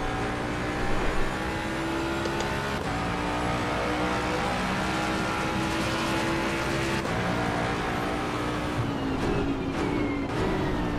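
Ford Mustang GT3 race car engine in the Assetto Corsa Competizione sim racing game, a loud sustained engine drone with shifting pitch as it revs and shifts, other cars faintly passing around it.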